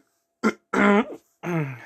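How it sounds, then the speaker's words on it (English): A man clears his throat three times in a row: a short rasp, then two longer, gravelly grunting pushes, close to the microphone with silence between them. "I know I shouldn't be trying to clear my throat"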